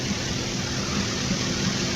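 Aircraft engines run steadily in the X-Plane 11 flight simulator at Billund, a continuous low droning hum with no talk over it.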